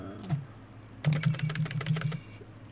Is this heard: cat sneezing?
no